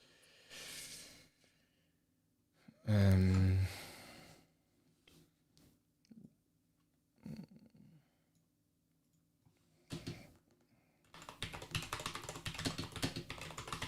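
Computer keyboard typing in a quiet room, scattered bursts of clicks early on, then a long, steady run of rapid close keystrokes, with occasional breathing and sighs in between.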